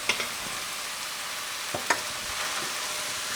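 Cooked lentils being stirred into vegetables in a pan for a lentil stew, a soft, steady sizzle with a few faint scraping strokes of the spoon, no voices.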